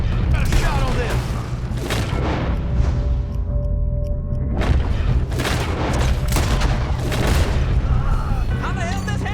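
Gunfire breaks out during a train robbery in the video game Red Dead Redemption 2, with repeated booming shots scattered across the scene. Shouting voices and game sounds are mixed in.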